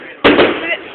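A single firework on bonfire night: a sudden sharp, close bang followed by about half a second of fizzing crackle that fades out.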